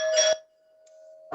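A doorbell chimes in a home: a bright ding, then a long ringing tone that slowly fades, and a second ring starting near the end, heard alone without talk.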